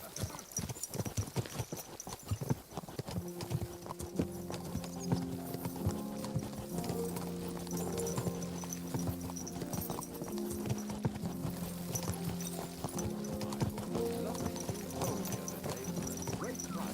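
Hooves clip-clop steadily as a horse is ridden in the video game Kingdom Come: Deliverance II, a continuous rhythmic patter under a low droning musical score, with a brief neigh-like sound.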